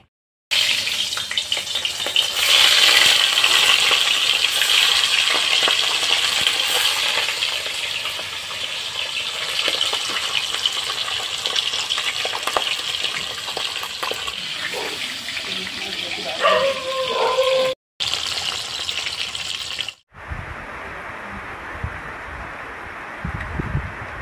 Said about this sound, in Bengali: এখন আমি ইলিশ মাছটা ভেজে নেব